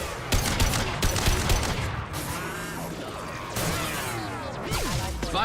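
Gunfire in a shooter video game, a dense burst of rapid shots layered with metallic mechanisms, whooshes and impacts at steady, loud levels throughout.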